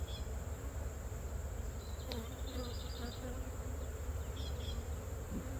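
Honeybees hum in a steady, continuous drone at a garden apiary hive, close and even throughout, with a few faint higher buzzes from individual bees passing near.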